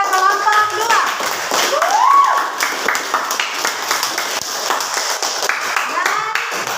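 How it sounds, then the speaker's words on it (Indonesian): Hands clap in applause from a classroom audience for a presenting student group, steady clapping that fades into scattered taps while a voice speaks over it. "Oke, berikan aplaus kepada kelompok 2."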